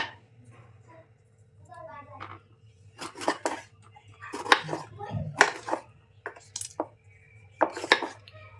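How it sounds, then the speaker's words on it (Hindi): A knife chops tomatoes into small pieces on a board, a series of sharp close taps in irregular bursts, with faint background hum. "पहले हम टमाटर के छोटे छोटे टुकड़े काट लेंगे"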